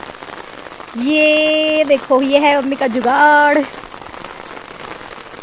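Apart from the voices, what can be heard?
heavy rain falling on a roof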